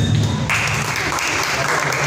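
Audience applause at a Marathi stage event, heard as a steady, dense wash of clapping that fills the whole short stretch at a close, fairly loud level with no talk over it.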